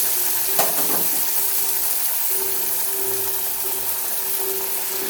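Rolled peanut-stuffed kochuri dropped into hot oil on a high flame, giving a steady, close sizzling hiss with a faint, constant hum under it and no talking.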